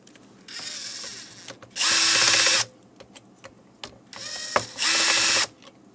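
A small powered screwdriver removes screws from an Apple iMac 27 inch A1312 during a video card replacement, whirring in two short loud pairs of bursts separated by quiet handling clicks, close up.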